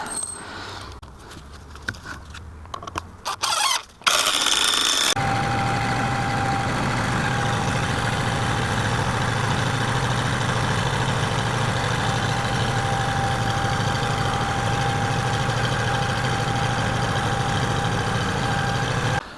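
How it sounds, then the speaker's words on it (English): A tractor engine idles with a constant low rumble and a faint whine while lifting posts, after a few seconds of clattering, scraping noises at the start. "we lift it up in place with the tractor again"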